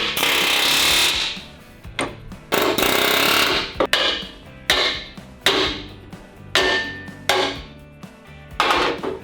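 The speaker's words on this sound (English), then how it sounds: "So as soon as that's done, we'll air hammer it off" A pneumatic air hammer knocks a welded bracket off a truck frame, rattling loudly in repeated bursts, with sharp metallic bangs and brief pauses between each burst of hammering.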